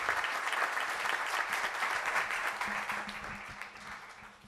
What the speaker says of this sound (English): So let's give these folks a big round of applause